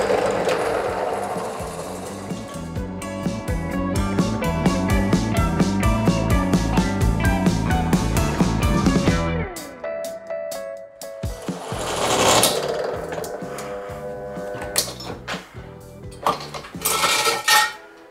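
A drill bit bores into a metal workpiece during a test of metal drill bits, making a loud, close grinding whine with rattling chatter that drops out partway and then returns in shorter bursts.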